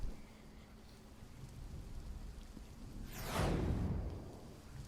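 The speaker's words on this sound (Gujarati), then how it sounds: "ભારે પવન સાથે વરસાદની શરૂઆત થતાં લોકોના ઘરમાં પણ પાણી ઘૂસ્યા હતા" Heavy rain in Kutch, Gujarat, hissing steadily over a constant noisy roar, with a strong gust or rumbling swell rising briefly near the end before easing off.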